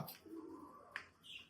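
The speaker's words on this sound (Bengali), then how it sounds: "আমরা এখন কবুতরকে খাবার পানি দেব" A pigeon coos softly at a distance, with a brief chirp-like note and a faint higher call afterward, heard alone over a quiet backdrop.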